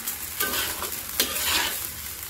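Hard sago grains with salt are stirred in a hot pan, giving a soft continuous sizzle with gritty scraping strokes of the spoon, close up, and no one speaking.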